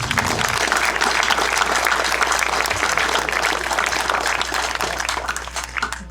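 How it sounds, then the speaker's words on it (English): A crowd at a town sesquicentennial celebration applauds loudly, a thick continuous wash of clapping that holds steady for six seconds and thins slightly toward the end, with no speech. "let's give them all a round of applause."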